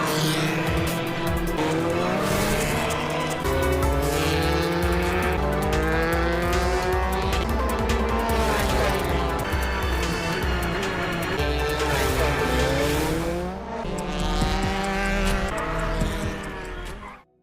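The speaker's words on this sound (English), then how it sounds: "The race started with Haruka speeding past his opponents as usual" Race cars in an animated motor race scream past at full speed with loud high-pitched engines. The revs rise and fall in overlapping waves as the cars pass close by, with occasional tire squeal.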